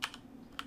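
Keystrokes on a computer keyboard while a command is entered, a few sharp clicks at the start and one more near the end, close and fairly quiet over a low steady hum.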